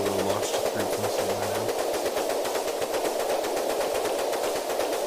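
Rapid naval gunfire from an Arleigh Burke destroyer in a video game, a dense, fast rattling stream of shots, loud and sustained throughout.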